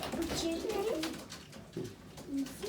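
Soft pigeon coos repeat over a steady background of chatter and rustling, fairly close, with a voice mixed in.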